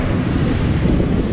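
Strong wind buffets the microphone at a surf beach near Santa Rosa, San Bartolo, mixing with rolling wave noise in a loud, continuous rumble.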